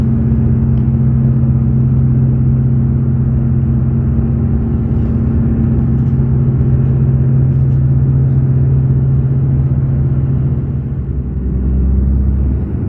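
Hino RM Z5 bus engine droning steadily from inside the cabin while riding a Jetbus 5 intercity route near Yogyakarta, a constant low rumble with a strong hum and road noise throughout, no talking.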